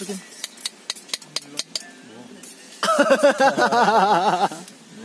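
At a mountain campsite on Gunung Gede, a utensil clinks and taps sharply against a pan in a quick irregular series while nuggets are cooked, followed by a burst of nearby voices talking and laughing.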